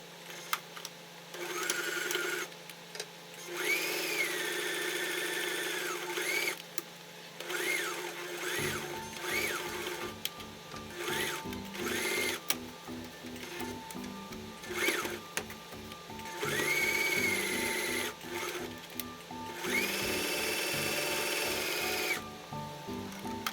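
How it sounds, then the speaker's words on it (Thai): A sewing machine stitches around the opening of a shoulder bag, its fast rhythmic mechanical chatter starting partway through and running steadily over tonal background music. "เราก็จะนำชิ้นงานนะคะ ไปเย็บทับรอบปากกระเป๋าเลยค่ะ"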